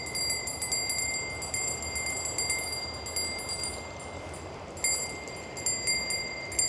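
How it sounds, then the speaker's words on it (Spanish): A small bell rung during a spiritual cleansing with stones and flowers in Cuenca, giving a clear, sustained high ring that is struck again and again at an unhurried, steady pace over soft background hiss. "con el sonidito de la campana"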